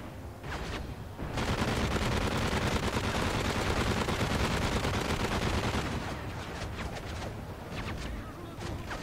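A turret in Modern Warfare 3 Survival mode fires long, sustained automatic bursts, loud and dense through the middle, trailing into scattered separate shots at the end.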